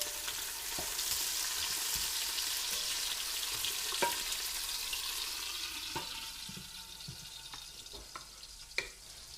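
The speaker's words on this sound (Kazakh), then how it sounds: "Пиязымыз бен сәбіз қуырылып жатқан кезде" Onions and carrots fry for pea soup, a steady broadband sizzle filling the clip with a few sharp clicks of stirring utensils, no voices.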